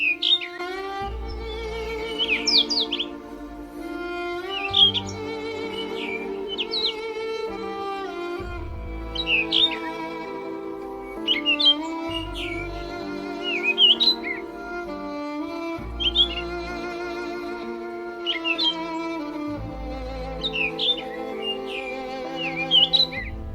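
Birds squawk and chirp in bright repeated bursts as they fly off, spooked by a fox. The calls come in regular clusters over a low, steady background with no speech.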